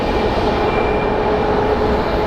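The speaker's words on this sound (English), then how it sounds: "Hawaiian Airlines is about to take off" A Hawaiian Airlines airliner taking off at Phoenix Sky Harbor International Airport, a loud, steady jet engine roar with a faint whine, continuous and unchanging.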